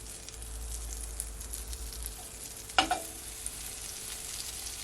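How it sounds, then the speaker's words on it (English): Butter melting in a pan over moderate heat gives a quiet, steady sizzle, with a short sharp clatter of the pan or utensil near the middle and a few soft clicks. "just gonna add just a bit of butter and just allow it to melt"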